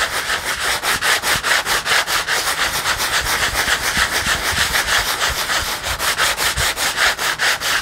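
Steady rhythmic sanding strokes rub across a collage journal cover, each back-and-forth pass loud and close, continuing without pause and with no voices.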